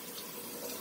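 Water runs steadily behind a shower curtain, a soft, even broadband hiss that holds at a constant level for under a second with no voices.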